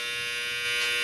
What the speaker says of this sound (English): It's the dryer down here.